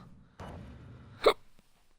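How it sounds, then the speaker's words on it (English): A single short hiccup from a man, sharp and close, in an otherwise quiet indoor moment with a brief murmur before it. "now I've got hiccups"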